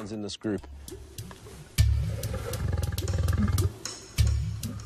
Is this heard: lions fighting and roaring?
yes